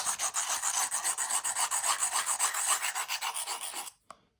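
Rapid, even back-and-forth grinding strokes of a knife blade across a sharpening surface on one side, loud and close for about four seconds, then a sudden stop and a single faint tap, with no talk.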